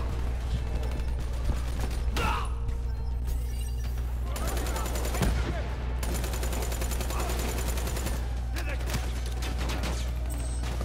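Gunfire and mechanical clatter from a Call of Duty campaign on veteran difficulty fill the clip, with repeated bursts of shots over a constant low rumble of game audio.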